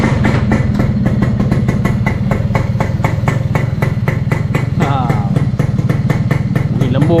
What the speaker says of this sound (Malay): Yang ni kita nak start enjin. Dah pakai silencer ni yang saya dah buat ni.